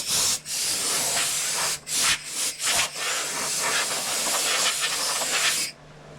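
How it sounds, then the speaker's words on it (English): An air hose blows sawdust off a wooden board and a woodworking machine in a shop, a loud steady hiss broken by several short pauses between blasts, then cutting off near the end, with no talking. "When you're using an air hose to do that, don't blast it."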